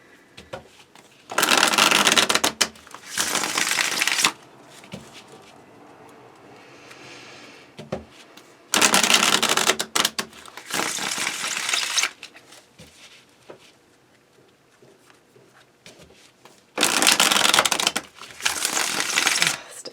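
Three bursts of crisp, rapid tarot card shuffling, each lasting a couple of seconds, separated by quieter pauses with soft handling noises.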